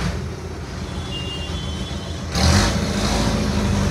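Road traffic passing close by a roadside spot, a steady broadband rumble of car and truck engines that swells louder midway as a heavier vehicle goes past, with no talk.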